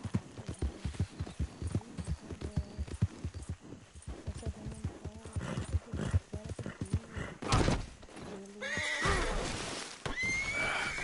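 A horse in Red Dead Redemption 2 gallops with rhythmic clip-clopping hoofbeats, then lets out loud, close whinnies and snorts near the end of the clip.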